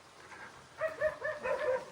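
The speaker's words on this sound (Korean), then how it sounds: "개들이 막 짖네요." Several dogs bark at a rural mountain home on an autumn day, a quick series of short, fairly faint barks at a distance over quiet outdoor background.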